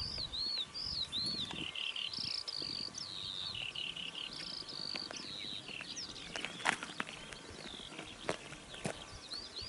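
Skylarks sing continuously over open countryside on a mountain hiking trail, a steady high twittering stream with occasional louder chirps and faint rustling underneath, no voices.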